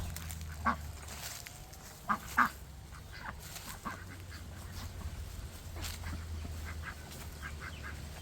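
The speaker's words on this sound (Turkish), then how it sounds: "Ördekler otlamıyor. Burunları hep yerde." Farmyard ducks nosing at the ground in a village make a few short, scattered quacks over a steady low outdoor hum, with quieter calls between them.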